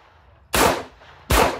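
Two loud, close gunshots at an outdoor shooting range, about three quarters of a second apart, each with a sharp crack and short decay.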